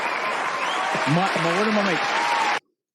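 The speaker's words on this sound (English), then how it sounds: "This deserves a round of applause." Applause from a podcast crowd fills about two and a half seconds at steady volume, with a voice talking over it before it cuts off abruptly.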